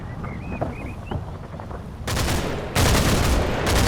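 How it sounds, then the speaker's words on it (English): Bursts of Bren light machine gun fire in the World War II Normandy game Combat Mission, starting after a quiet stretch of faint game ambience, then two loud sustained automatic volleys close by with a brief gap between them. "We spray a lot of Bren fire at them"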